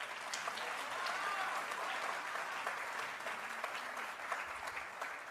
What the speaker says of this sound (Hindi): तालियां मिली हैं